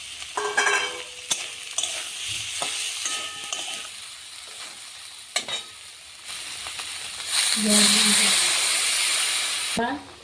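Soybean chunks and potatoes fry in spiced oil with turmeric, crackling and hissing with scattered clanks of a utensil against the pan, then a louder surge of sizzle late on; a voice talks at times.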